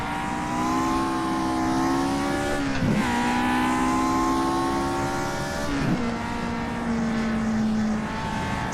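Older Formula 1 racing car driven hard with heel-and-toe technique, its loud, sustained engine howl close by and alone, dipping and recovering twice with gear changes.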